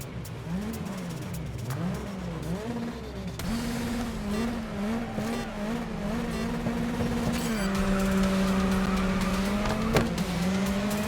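Audi A3 touring car racing in the Grid Legends video game, its engine revving up and down through gear changes, with a pack of other race cars roaring close by and a sharp knock near the end.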